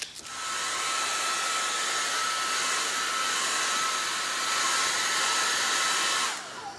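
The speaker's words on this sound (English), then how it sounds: "I'm putting it on high, but usually I'll put it on low." A hair dryer on its high setting blows onto Paverpol textile hardener while it dries, giving a loud, steady whooshing whir for about six seconds before it switches off.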